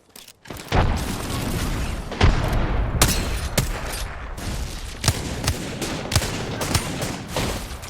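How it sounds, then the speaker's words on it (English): Video game grenade explosions and gunfire: dense booming blasts and sharp rapid shots in a sustained firefight, loud and close, with no talk. "Tossing a grenade."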